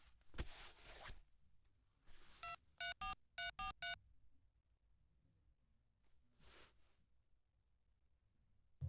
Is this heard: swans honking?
no